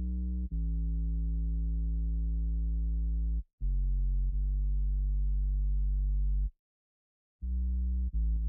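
A sub-bass synthesizer patch in Logic Pro plays deep, pure, sine-like notes alone. The long sustained tones change pitch a few times and break off into short silences between phrases.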